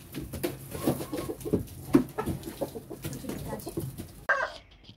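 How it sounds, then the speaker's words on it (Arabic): A rooster clucks repeatedly nearby in short, uneven bursts on a rooftop poultry coop, with other fowl cooing softly in the background and a brief louder call near the end. "الديك اللي عمال يقاقي ده"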